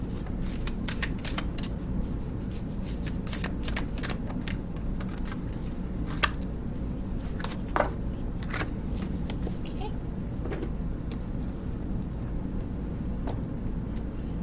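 Oracle cards from a Sacred Self-Care Oracle deck shuffled in a steady run of soft riffling flicks and snaps, close and fairly quiet over a constant low background hum.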